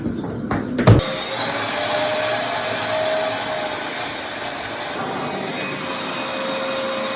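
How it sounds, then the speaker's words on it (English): A vacuum cleaner starts after a few brief knocks and then runs with a loud, steady whine and roar. It keeps going at an even level without stopping, and nobody speaks. "for the sake of saving time, I'm using a vacuum"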